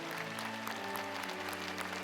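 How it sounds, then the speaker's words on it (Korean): A congregation stands and applauds as national, conference and district flags are carried into a women's mission society worship service, a steady wash of clapping with a low sustained organ or hum beneath, no talk. "모두 자리에서 일어서서 뜨거운 박수로 환영하여 주시기 바랍니다."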